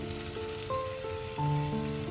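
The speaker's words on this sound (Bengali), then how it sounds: "পেঁয়াজ আর টমেটোটা 2 মিনিট ধরে আমি গ্যাসটা ফুল বাড়িয়ে দিয়ে ভেজে দিলাম" Onions and tomatoes fry over a high gas flame, giving a steady, close sizzle that runs the whole time beneath sustained musical tones.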